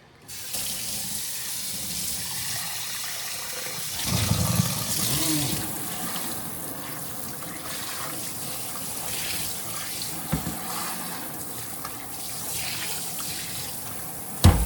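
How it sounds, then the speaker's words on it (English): Common carp being rinsed under a running kitchen tap, a steady, continuous splash of flowing water close by with brief louder gushes as the fish is handled, no talking. "And wash out our fish."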